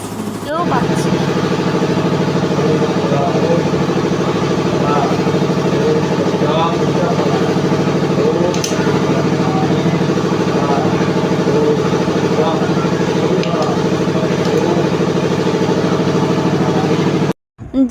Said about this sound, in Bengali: মাঝে এত জেনারেটরের আওয়াজ হচ্ছে যে ভালো করে শুনতেও পাচ্ছি না।